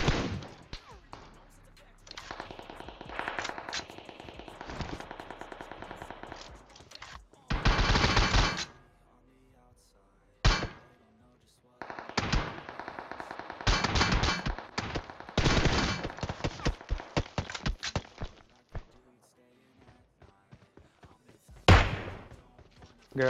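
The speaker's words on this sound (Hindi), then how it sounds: "भले ही गोलियां गाड़ी पे लग रही हो" Bursts of gunfire striking a vehicle in the battle royale game PUBG Mobile, sharp repeated volleys separated by pauses, loud against quieter game sounds.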